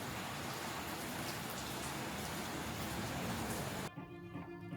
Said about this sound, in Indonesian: Sore itu Jogja diguyur hujan yang makin lama makin deras.